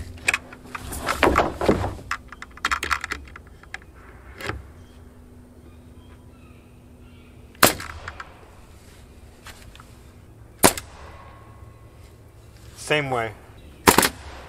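Nail gun fired while building a DIY porch, sharp isolated bangs spaced several seconds apart, then a quick rapid-fire burst near the end, close and loud, with talking at the start.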